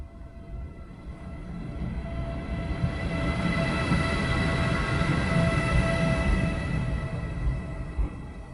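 A train rumbles past, its steady rolling roar swelling and then holding, with faint tonal squeals from the wheels and rails.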